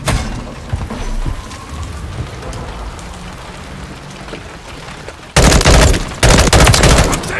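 Gunfire in Modern Warfare 3 multiplayer with an M16 loadout: a dense, noisy crackle of distant shots through most of the clip, then two loud, close bursts of rapid automatic fire near the end.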